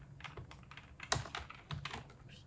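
Quick bursts of key presses on a computer keyboard, close and fairly quiet, an irregular run of clicks with one sharper tap partway through.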